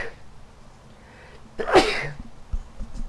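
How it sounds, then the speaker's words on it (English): A single sharp sneeze bursts out mid-clip amid quiet room noise, followed by a faint breathy rustle. "I don't want to sneeze all up on my mic"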